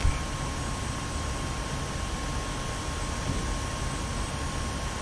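An F-86F Sabre jet climbing out just after takeoff in DCS World gives a steady, broad engine roar with a continuous high whine, unbroken and fairly loud for the whole stretch.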